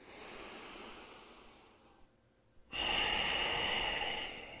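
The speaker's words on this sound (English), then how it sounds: "3 more breaths here" Deep yoga breaths during an intense workout, a softer drawn-out inhale easing into a pause, then a loud, forceful exhale squeezing the air out, close and rushing like surf.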